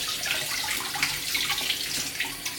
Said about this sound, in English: I'm sure if I put cold water on it,